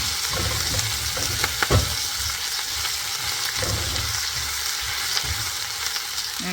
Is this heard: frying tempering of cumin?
yes